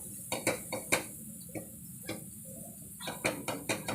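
A knife chops cooked liver into small pieces for a liver fry masala, giving irregular sharp taps and clinks of the blade against a cutting board or plate, close and moderately loud, with short quiet gaps between strokes.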